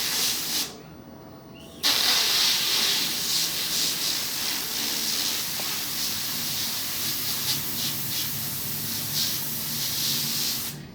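Airbrush spraying paint from about 2–3 inches away, a loud, steady airy hiss that starts after a brief quiet pause and runs continuously with slight fluctuations in strength.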